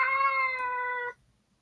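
A cat meows once with a long, clear, tonal cry lasting about a second, then cuts off into near silence.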